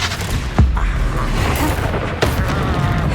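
Fire-blast explosions from the Confringo spell in Hogwarts Legacy, heard as two sharp booming bursts over a dense battle din of rumbling effects.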